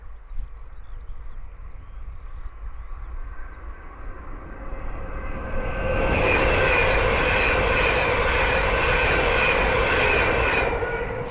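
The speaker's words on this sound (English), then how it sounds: "the next train to pass by is a Thameslink 700 from Luton to Raynham" A Thameslink Class 700 electric train passes on the Midland Main Line at Ayres End Lane, first a faint approaching hum, then a sudden loud, close rush of wheels and motors that stays strong to the end.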